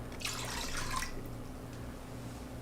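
Sauce poured into an Instant Pot pressure cooker, a brief close splashing trickle of liquid that fades into a quiet room hum.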